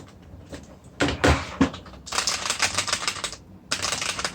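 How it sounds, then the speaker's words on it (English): Computer keyboard keys clicking during fighting-game play with Akuma, with a couple of sharp clacks followed by rapid bursts of close, crisp clicking that pause briefly, with no talking. "So you can hear my keyboard clicking sounds."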